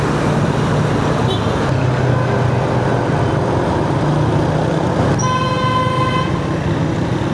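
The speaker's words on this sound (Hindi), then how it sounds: "यहाँ ट्रैफिक बड़ी बेहंगम है इस शहर की" Busy, chaotic street traffic in Lahore, Pakistan rumbles on continuously, with engines droning and several car and truck horns honking, including a longer sustained blast near the end.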